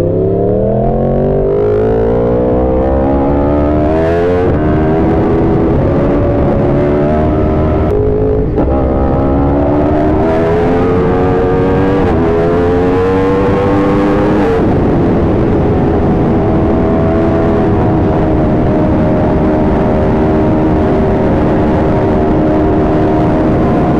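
A Yamaha R1 motorcycle engine revs at wide open throttle. It is loud and close, climbing through the gears with rising pitch, briefly dropping and then surging again before settling into a sustained high-rpm roar.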